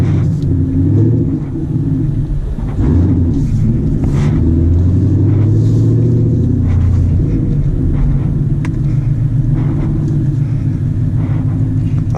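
A full bolt-on 2016 Camaro SS engine rumbles steadily and deeply from inside the moving car, with wind and road noise layered over it and no talking.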